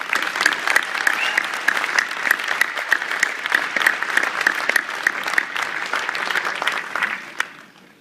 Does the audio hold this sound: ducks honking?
no